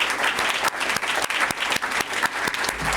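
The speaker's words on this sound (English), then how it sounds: "warm round of applause" Warm applause from an awards ceremony audience, dense clapping with sharper individual claps standing out, steady and fairly loud throughout.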